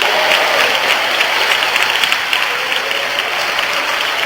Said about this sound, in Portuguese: batam palmas e glorifiquem ao Senhor